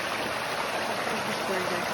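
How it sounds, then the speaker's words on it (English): Spring water stream flowing along a wooded trail, a steady broadband rush and trickle that stays even and close throughout with no pauses. "Fresh spring water"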